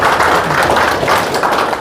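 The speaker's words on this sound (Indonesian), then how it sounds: "Tepuk tangan dulu." Participants at a first aid and emergency training bootcamp clap together, dense and steady across the whole short stretch.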